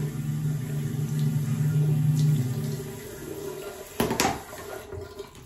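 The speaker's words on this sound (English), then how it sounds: "So now I'm gonna just wet the face." Water running from a tap and splashing as a face is wetted before building a shaving lather, a steady flow that fades, followed by a couple of brief sharp splashes near the end.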